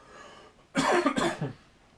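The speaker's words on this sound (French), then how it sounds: "il faut que je tousse" A lecturer coughs twice, close and loud, a short harsh pair of bursts during a history class.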